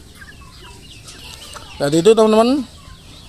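Chickens, some sick with chronic respiratory disease, clucking up close in a short, loud burst of several rising calls, after a quiet stretch with soft background sounds and a voice speaking.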